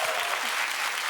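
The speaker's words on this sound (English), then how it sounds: "Now we can clap for that." A brief burst of studio audience clapping on a daytime talk show, dense and close-sounding, already in full swing and holding steady with no talk over it.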